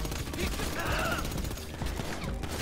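Dense, continuous automatic gunfire rattles through a casino heist in GTA Online, with players talking over the shooting throughout.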